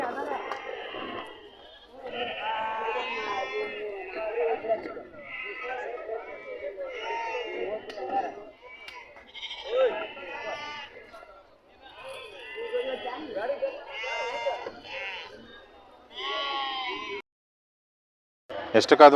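Sheep and lambs bleat at a weekly sheep and goat market in Amingad, Karnataka, with repeated wavering calls close by, overlapping one another, amid crowd chatter.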